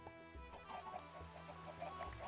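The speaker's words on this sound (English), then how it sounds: "Why the fuck is there a bunch of chickens in here?" Several Minecraft chickens cluck softly in a quick, uneven series, with a low background hum and no voices.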